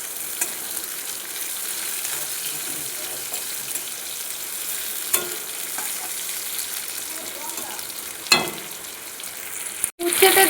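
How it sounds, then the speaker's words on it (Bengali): Bitter gourd pieces fry in hot oil over a five-spice tempering, a steady close sizzle with a couple of sharp utensil knocks near the end. "উচ্ছেটা ভালো করে ভেজে নেব।"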